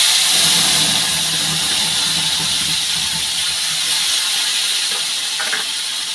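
Steady loud hissing sizzle from a hot cooking pan as ground spices go in during preparation of a paneer, potato and tomato dish, broad and constant throughout with a faint clink near the end and no talking.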